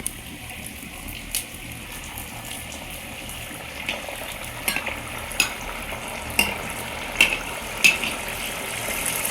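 Coconut pieces fry in a pan with a soft, continuous sizzle. Scraping stirring clicks grow more frequent and distinct toward the end.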